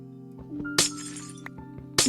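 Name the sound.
glass blocks breaking in Minecraft video game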